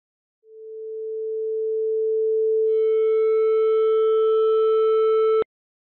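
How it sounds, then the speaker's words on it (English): A pure 440 Hz sine tone from a resonance simulation, with natural and forcing frequencies matched, swells steadily louder over about five seconds and then cuts off abruptly. "let's set the natural frequency and forced frequency both to 440 hertz"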